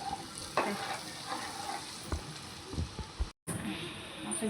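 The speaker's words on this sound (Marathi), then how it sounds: "हे फोडणी दिली बघा नुसत्या लसणाची" Steady sizzling of garlic frying in hot oil for a tempering, with scattered scraping clicks from stirring. Close and fairly loud, cut by a brief silent gap near the end.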